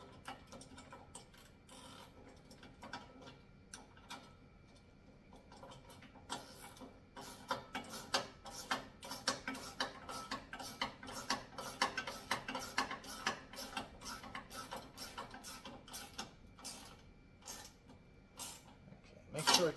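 Fasteners on a heavy-duty wall-mounted pull-up bar are tightened with a ratcheting tool, a rapid run of fine ticking clicks that grows busier partway through, close and fairly quiet.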